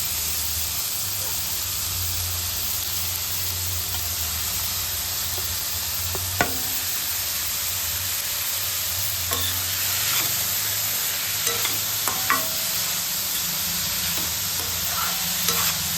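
Chopped onions, four large ones, frying in oil for a homemade mutton curry gravy, a steady broadband sizzle with faint background hum and a few soft stirring clicks, continuous and close with no talking.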